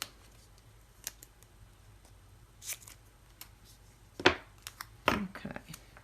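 Scissors snip pieces of double-sided tape in a crafting setup, several sharp separate cuts and light paper handling rustles scattered through a quiet room, the last few cuts louder and closer.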